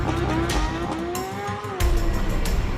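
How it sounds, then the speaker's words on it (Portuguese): Imported luxury car accelerating hard in a street drag race, a loud engine roar with rising and falling pitch and tire noise, surging louder near the end. "dar arrancadas com o carro importado"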